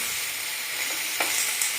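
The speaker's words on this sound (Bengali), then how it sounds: "এটাকে ভালো করে একটু ভাজা ভাজা করব" Food with turmeric fries in a pan, a constant close sizzle with a few brief scraping stirs of a spoon, no speech.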